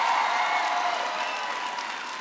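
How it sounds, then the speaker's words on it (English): Audience applause in a high school hall in Elkhart, Indiana, greeting a speech by Barack Obama: a steady, dense wash of clapping with no voices over it, holding level and easing slightly toward the end. "Can everybody please give Kelly a big round of applause for the great introduction?"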